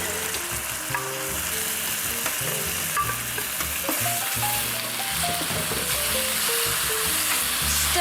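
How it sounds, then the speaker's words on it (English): Beef rendang spice paste with onions frying in a pan over medium heat, a steady loud sizzle with scraping and stirring clatter from a paddle spoon, close and continuous with no talking. "Next, I'm going to scrape this paste into the pan."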